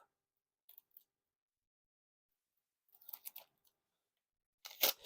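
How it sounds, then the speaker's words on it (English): Cellophane wrap torn and peeled by its pull tab from a sealed Bicycle Sparrow HanaFuda playing card tuck box, in sparse close crinkles and rips separated by silence, loudest in a final burst, with no talking. "we're going to grab that pull tab and peel the cellophane off"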